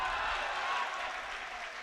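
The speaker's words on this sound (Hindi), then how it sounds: "सांप के जवाब पे यहां से वहां तक आपकी तालियां बजे।" Brief burst of audience applause at a mushaira poetry gathering, a steady hiss of many hands clapping that fades slightly toward the end.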